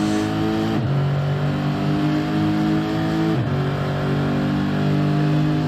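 A GT3 Cup racing car engine revs hard in a racing video game, its loud, steady drone climbing in pitch, dropping briefly at two gear shifts, then climbing again, with no voices.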